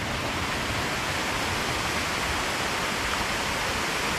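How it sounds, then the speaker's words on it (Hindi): Jamge waterfall roars in a steady, dense rush of falling water, loud and unbroken for the whole few seconds with no voices. "और ये है ब्यूटीफुल सा वाटरफॉल।"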